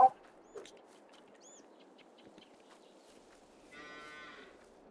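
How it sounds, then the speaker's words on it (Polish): Cows on a farm moo in a loud burst at the start, followed by quieter lowing and scattered bird calls over a steady rural background hum. "Jak tam krówki? Ładnie krówki, ładnie krówki."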